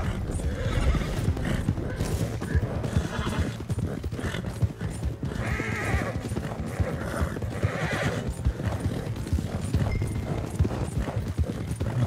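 Horses gallop in Red Dead Redemption 2, with continuous rapid hoofbeats close by and loud whinnies and neighs cutting through several times, no talk over them.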